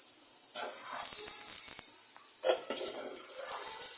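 Mango pieces tossed into hot fried spice mix for a pickle give a steady close sizzle and hiss, with bursts of spattering and a few utensil scrapes against the pan.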